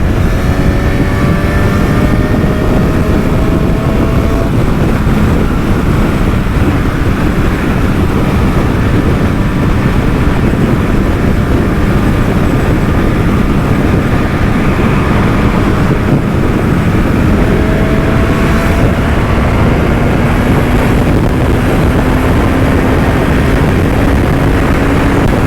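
Constant loud roar of a 2025 Honda CB1000 SP Hornet naked motorcycle ridden at steady speed, with heavy wind buffeting and engine drone, slowly shifting tones, no voices.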